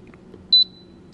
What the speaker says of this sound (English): The beep is a good bit louder with it turned to loud